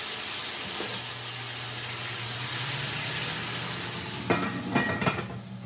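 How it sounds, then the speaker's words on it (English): A hot pan of Cajun roast hisses and sizzles loudly during deglazing, with a steady rush of steam. Near the end come a few utensil clanks and stirring sounds. "Time for the first deglaze."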